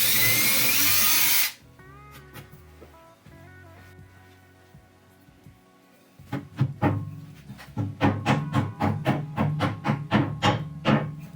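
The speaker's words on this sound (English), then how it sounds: "drill the hole for the wall anchor" A power drill whirs briefly and loudly while drilling a hole in a wall for a wall anchor, then stops. Scattered clicks and knocks follow, and then a run of sharp, rhythmic taps.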